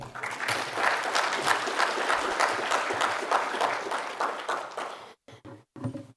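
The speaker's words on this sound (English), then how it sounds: "Another round of applause" A conference audience at an underwater occupational health and safety event claps in a sustained round that swells and then thins, stopping abruptly near the end with a few last scattered claps.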